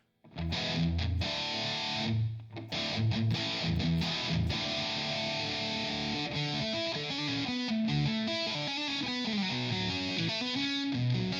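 A distorted electric guitar played through ToneLib GFX plays chords and riffs with a roomy reverb tail, loud and continuous, with short gaps between phrases.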